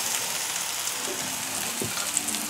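Frankfurters fry and brown in a pan for shakshuka, giving a faint, steady sizzle with a few soft stirring scrapes and clicks, with no voices over it.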